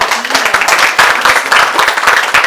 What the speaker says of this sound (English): why don't we all start with a big round of applause for ourselves